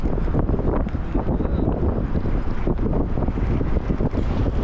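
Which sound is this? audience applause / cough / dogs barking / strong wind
strong wind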